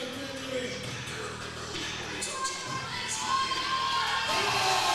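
A crowd at a USAPL powerlifting meet cheers and shouts, building louder toward the end as a lifter attempts a personal record, with an announcer talking over the noise.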